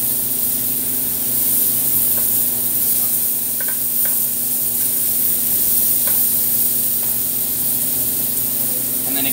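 Scallops sear in a very hot pan, giving a steady, close hiss of sizzling that carries on unbroken with no voices.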